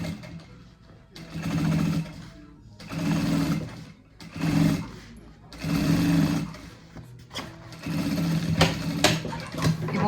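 A sewing machine stitches the lining of a bag in several bursts of fast, whirring rhythmic running, each a few seconds long with short pauses between, heard up close.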